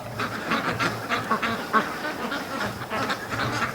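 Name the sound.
goose honking and ducks quacking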